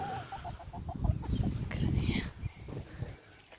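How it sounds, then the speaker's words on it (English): Chickens and a cockerel on an allotment cluck in a quick series of soft repeated notes, with scratchy rustling and low outdoor background noise, moderately close. "So that's the cockerel."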